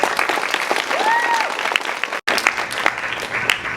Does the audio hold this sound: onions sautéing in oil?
no